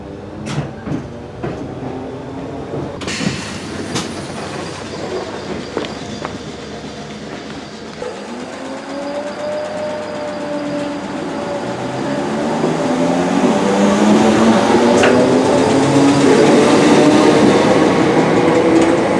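Merseyrail train at Hunts Cross station, first rattling and clacking in the distance, then rolling in closer with rising wheel and motor whine and squealing tones that grow loud near the end. No one talks.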